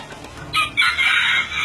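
A small ornamental serama chicken crows in short, loud bursts after a quieter start, the calls coming close together and standing alone without talk.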